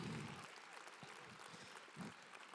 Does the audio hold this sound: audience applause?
yes